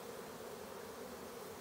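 A mass of honeybees being shaken off a honey frame at an apiary, a dense continuous buzzing drone of many wings, steady and fairly close with no voices over it.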